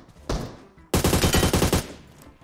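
PUBG Mobile gunfire: one sharp shot, then a rapid automatic burst of about ten closely spaced rounds, loud and near, fading into a short echo.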